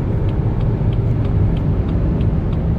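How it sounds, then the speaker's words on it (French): A BMW 2 Series Gran Tourer 220 with a 190 hp engine accelerates hard, heard from inside the cabin as a loud, steady low engine drone and road rumble with no speech. "j'appuie brusquement sur l'accélérateur et ça nous donne"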